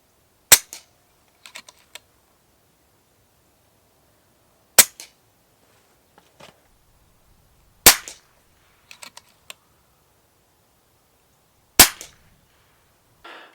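Four sharp, loud shots from an FX DRS Classic 600 .22 FAC air rifle with a shrouded barrel and sound moderator, spaced a few seconds apart, each followed by faint clicks and handling noises of cycling the action.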